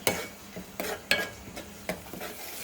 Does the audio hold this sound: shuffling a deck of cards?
no